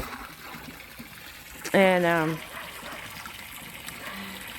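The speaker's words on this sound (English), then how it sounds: "filling up water troughs" Water running steadily into horse water troughs, a faint continuous trickle and gush in the background, with a voice briefly speaking over it.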